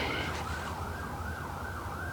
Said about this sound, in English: Sorry, there's sirens going by.